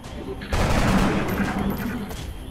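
Sustained suppression fire from an alien rifle in X-Com bursts in suddenly and roars on as a loud, continuous rattle, with speech faintly underneath.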